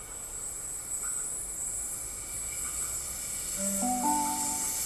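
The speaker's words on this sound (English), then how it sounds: "And we have a central bound Oscar arriving into platform 1." A Sydney Trains Oscar set pulls into a station platform at Woy Woy, a low rumble building steadily with rising tonal squeals from brakes or motors toward the end, moderately distant.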